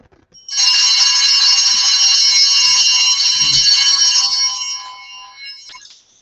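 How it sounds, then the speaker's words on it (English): A bright, sustained ring of bells during Mass carries on loud and unbroken for about four seconds, then fades and trails off with a soft thump underneath. "he didn't stop ringing his bells until it has landed on the altar table"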